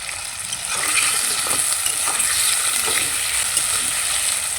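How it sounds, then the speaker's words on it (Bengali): Masala with chopped tomato and a little salt is stirred in a hot pan for a Bengali elephant foot yam curry, giving a steady sizzle with soft scraping strokes. "একটু নাড়াচাড়া করে নেব"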